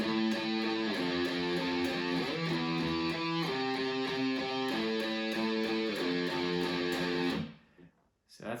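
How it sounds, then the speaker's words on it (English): A distorted bass plays root notes of a Doom Eternal riff, a steady chugging line of changing pitches loud and alone, stopping abruptly near the end. "So the bass sounds like this."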